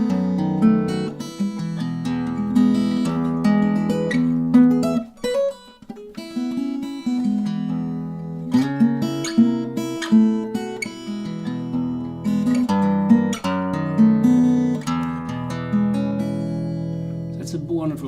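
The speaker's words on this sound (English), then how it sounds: "So let's say this guitar would sound like this," A custom-built guitar played in a melodic passage of plucked notes and chords, close and clear, with a short break near the middle before the playing resumes.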